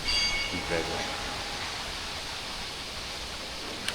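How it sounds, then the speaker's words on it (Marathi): A river flows beside the Dhutpapeshwar temple in Rajapur, Konkan, as a steady, even rushing hiss that stays moderately quiet and unbroken from start to finish. "नदीचा प्रवाह तुम्हाला पूर्णपणे ऐकण्याला भेटतो"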